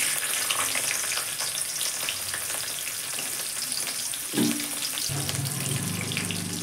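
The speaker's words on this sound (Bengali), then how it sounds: "তো এবার আমি ক্যাপসিকামটা দিয়ে দিলাম।" Capsicum frying in a pan of hot oil for a spicy bhola fish curry, a steady close sizzle throughout with a brief stir and a scrape near the end.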